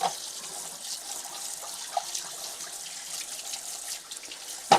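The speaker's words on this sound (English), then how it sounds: "Celeberry says to just rinse everything under water" Juicer parts rinsed under a running kitchen tap, a steady close hiss of flowing water with a few small clicks and knocks of plastic pieces being handled.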